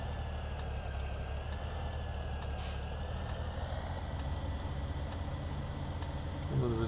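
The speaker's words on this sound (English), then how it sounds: "Oh, there is a truck coming, this tractor's in a high gear." A truck in Farming Simulator 17 approaches on a farm road, its steady engine drone and a brief air-brake hiss sitting over the constant hum of a tractor running in high gear, with a soft rattle near the end.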